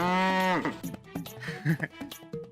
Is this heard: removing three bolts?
no